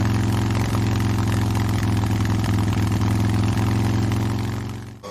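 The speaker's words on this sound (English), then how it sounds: "motorcycle" A motorcycle engine idles steadily with a low, even rumble and a fairly loud, close presence, dropping off abruptly near the end.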